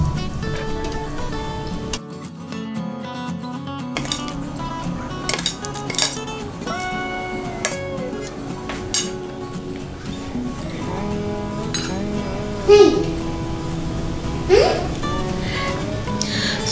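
Chole masala is served from an Instant Pot onto a plate, giving off clinks and scrapes of a metal spoon against the pot and dishes, with irregular knocks and a steady kitchen hum underneath.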